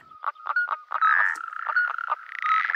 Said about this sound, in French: Un gang de grenouilles qui a élu domicile dans la mare du couple.